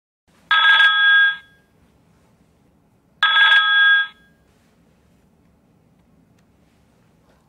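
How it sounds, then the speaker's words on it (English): A telephone extension rings twice in bursts about a second long, set off by an automated call-flooding script. Each ring is loud and close, with quiet gaps between and after. "make a few calls to an extension, and we'll hear that extension ring"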